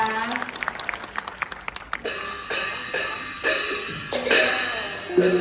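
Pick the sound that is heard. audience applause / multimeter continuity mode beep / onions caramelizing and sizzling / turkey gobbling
audience applause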